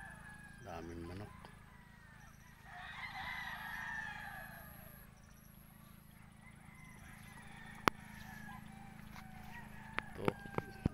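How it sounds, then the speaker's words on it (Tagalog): Chickens cluck and call faintly in the background over a low steady hum, with a few sharp clicks near the end, on a farm. "Daming manok."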